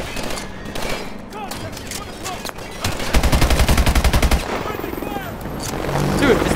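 Rapid automatic gunfire fills a Call of Duty: Advanced Warfare firefight, with dense bursts and a sustained stretch of fast shots, close and loud, as voices talk amid the shooting.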